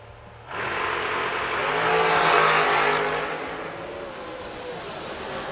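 Drag race cars accelerate hard at a racing event, a sudden loud engine roar that swells, peaks and then eases while staying strong, close and continuous.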